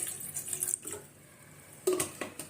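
Water splashes into a pot for sugar syrup in a home kitchen, in short bursts: one pour near the start, a quieter gap, then a second stronger pour.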